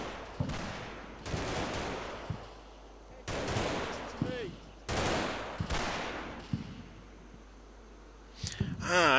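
Bursts of squad gunfire in the Combat Mission war game, several loud volleys of rapid automatic fire separated by short quiet gaps, with scattered single shots between.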